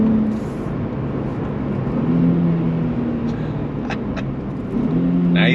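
A 2025 Nissan Z Performance twin-turbo engine drones steadily inside the cabin, with revs rising and falling through downshifts.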